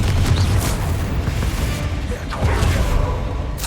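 A Confringo fire spell exploding in the video game Hogwarts Legacy, loud booming blasts with a whooshing burst, sustained over a rumbling low background, with a second swell near the end.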